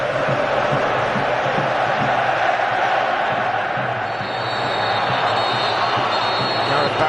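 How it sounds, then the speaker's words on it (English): Wembley crowd noise at an England versus Croatia Euro 2008 qualifier, a loud, steady roar of cheering and chanting that fills the stadium without a break. "Steve McLaren appealed for big backing from the Wembley crowd."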